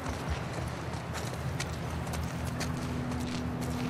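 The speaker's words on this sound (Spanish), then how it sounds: "¡Ay, un caballo!" Horse hooves clip-clopping in The Last of Us Part II, a steady run of hoofbeats over a constant low in-game ambient hum, with no talk.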